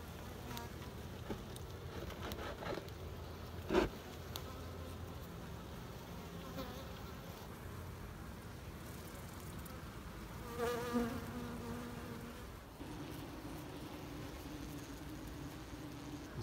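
A strong honey bee colony buzzes loudly and steadily after its heavy hive boxes are unstacked and the comb is torn apart, a dense close swarm hum that continues throughout with a few brief knocks.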